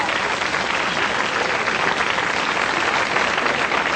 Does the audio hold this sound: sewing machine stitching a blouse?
no